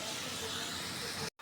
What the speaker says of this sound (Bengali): গোস্তগুলা ভেজে নেব সুন্দর করে